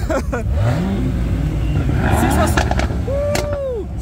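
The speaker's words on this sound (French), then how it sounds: "allez chauffer les moteurs." Sports cars at a large car meet, with an Audi RS3 and a Porsche Cayman GT4 among them, rev their engines in loud, close bursts that rise and fall. Voices talk over the roar.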